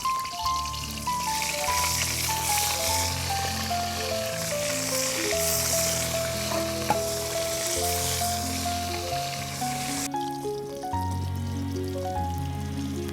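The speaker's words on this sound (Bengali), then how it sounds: "আমি এবার কড়াইয়ের ভিতরে মাছগুলো এক এক করে দিয়ে দেবো" Koi fish (climbing perch) fry in oil in a wok, producing a soft, continuous sizzling hiss that sits mostly beneath louder melodic background music throughout.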